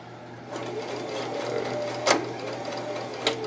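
A sewing machine stitches elastic onto a fabric tablet cover, running in a steady close whirring hum with a couple of sharp clicks as it backstitches.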